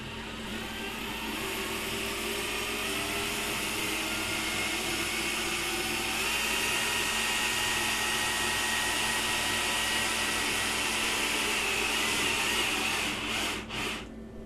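A CNC machine jogs along its X-axis under servo drive, giving a steady whirring, whining drone that runs continuously at moderate level, with a few brief clicks near the end.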